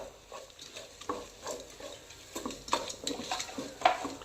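Coriander powder with garam masala and homemade biryani masala frying in a pan, with a soft steady sizzle and irregular scraping stirs of a spatula against the pan.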